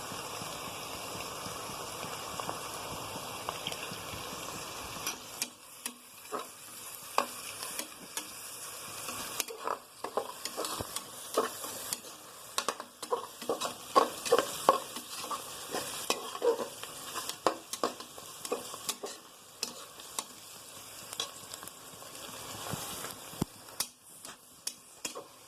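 Curry leaves sizzle and crackle in hot oil in a pan while a spoon stirs them, making steady frying hiss broken by frequent scraping and clinking strokes from the utensil, with no one talking.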